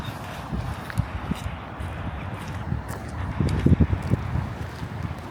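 Gusty outdoor wind buffets the microphone as a low, uneven rumble with soft thumps and rustles, fairly faint, strengthening briefly toward the end.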